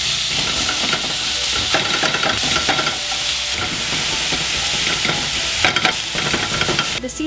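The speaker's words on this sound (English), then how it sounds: "Now we're adding the beef." Ground beef frying in a hot pan with cooking spray makes a loud, dense, continuous sizzle and hiss, with scraping stirs and bursts of spattering close by and no voices.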